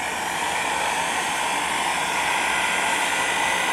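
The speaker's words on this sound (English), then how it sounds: "And if we use the heat gun," A heat gun blows steadily on paint applied to black synthetic Yupo paper, a continuous loud hiss of rushing air with no pauses and no voices.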